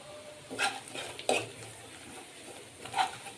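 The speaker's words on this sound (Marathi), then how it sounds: "कमी गॅसवरती फोडणी द्यायची आमटीला" Coconut and garlic tempering fry gently on a low gas flame for amti, a faint soft sizzle with three or four spoon scrapes and clinks against the pan.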